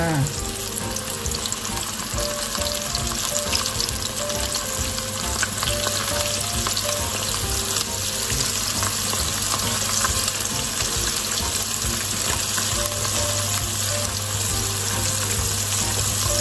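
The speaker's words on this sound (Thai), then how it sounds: "ตอนนี้น้ำมันร้อนแล้วนะคะ อ่า ใส่ทอดเลยค่ะ" Flour-coated chicken pieces frying in hot oil, giving a loud, steady crackling sizzle that runs without a break, close up, with no talk over it.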